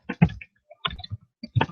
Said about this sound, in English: I'm typing into the chat thing